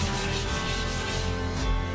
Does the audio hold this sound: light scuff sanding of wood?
yes